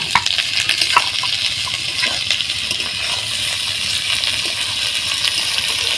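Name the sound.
raw fish frying on onions in oil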